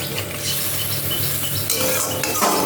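A home-style dish stirred in a pan right after a little milk goes in, giving continuous scraping and gentle sizzle with a few utensil scuffs toward the end, close and even throughout.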